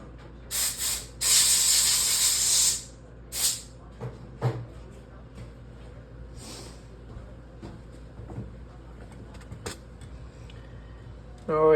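Compressed air blasting out a carburetor part during a garage tune-up, a loud hissing burst of about a second and a half with shorter puffs before and after, then clicks and handling noises.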